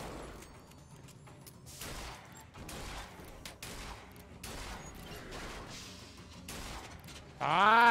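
Gunfire in the video game BioShock Infinite, a string of sharp, loud, irregular shots mixed with mechanical clatter, ending in a sudden whooshing burst.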